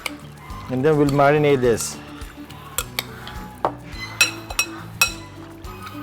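Salted fish being mixed in a bowl for sinuglaw, with light clinks and taps of utensil against the bowl scattered under a person talking.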